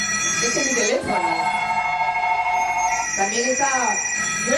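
A mobile phone rings loudly on a stage, its electronic tone pulsing in repeated bursts with brief gaps, while a person talks over it.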